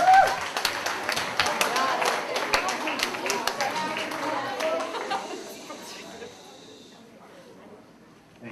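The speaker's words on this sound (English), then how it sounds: "Round of applause." An audience at a sixth-grade school assembly applauds with steady, brisk hand claps and chatter, loud at first and then thinning and fading away after several seconds.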